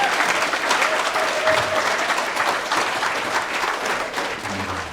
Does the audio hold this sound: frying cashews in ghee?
no